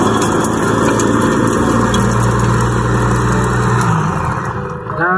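An electric food chopper grinds garlic with a loud, steady motor whine close by for about four seconds, then the pitch shifts as the blades slow near the end.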